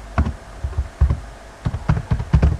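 Keys tapped on a computer keyboard while entering an IP address, irregular clusters of short clicks in quick bursts with brief pauses, close and moderately loud.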